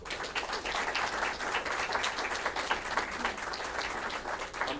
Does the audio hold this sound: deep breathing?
no